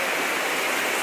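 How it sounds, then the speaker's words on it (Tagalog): Heavy rain with floodwater makes a steady, even rushing hiss, like water pouring and streaming, heard alone and fairly faint for about a second. "Sobrang ulan dito."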